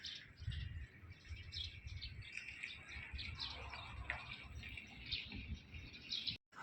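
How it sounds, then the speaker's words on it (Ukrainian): Sparrows chirp and twitter steadily in quick bright calls, set against a constant low rumble of traffic in the background. "там воробушки"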